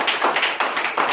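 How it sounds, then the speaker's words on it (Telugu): A crowd at a business meeting bursts into a brief round of hand clapping, a dense close patter of claps lasting about a second. "అండ్ క్లాప్ ఒక్కసారి"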